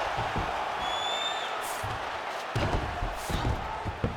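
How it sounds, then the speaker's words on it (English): A UFC 5 video game arena crowd reacting to a grappling reversal, a murmuring roar that swells into louder cheering bursts, with faint whistles early on. "Crowd goes crazy as she reverses the"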